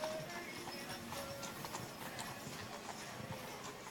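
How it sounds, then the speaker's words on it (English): Horse-drawn wagon rolling past in a Mule Day parade in Tennessee, hooves clip-clopping in a steady rhythm over a constant crowd and street hum, moderately close. "There's a horn on a wagon pulled by horses."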